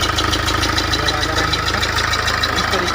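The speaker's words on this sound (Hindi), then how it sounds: "आपको आगे इंजन की तरफ से दिखा देते हैं कि हमारा गाड़ी स्टार्ट हो चुका है।" A Mahindra XUV500 engine idles steadily right after starting, following repair of a starting problem through an ECM unlock, giving a close, even, rhythmic low throb throughout.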